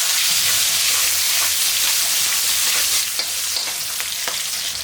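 A handful of whole small shallots goes into hot oil already used for frying eggplant, raising a loud, constant sizzle and crackle. It bubbles steadily, easing slightly partway through, with scattered sharp pops.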